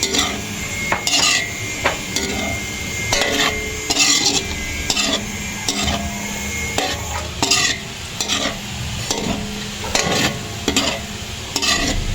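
Kulambutan with garlic and ginger sautés in a pan, a steady sizzle broken by repeated scraping and clinking strokes of a utensil stirring against the metal, close and without talk.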